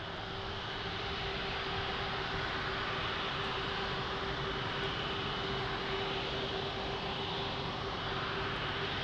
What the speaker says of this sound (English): Beautiful little private jet.